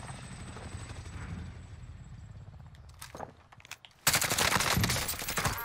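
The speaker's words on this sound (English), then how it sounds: "Supply chopper's inbound." A supply helicopter in Call of Duty: Warzone thrums with a steady rotor chop beneath the action, joined by bursts of gunfire and footsteps, with the battle noise growing suddenly loud near the end.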